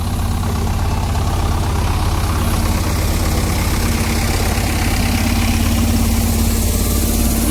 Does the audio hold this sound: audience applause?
no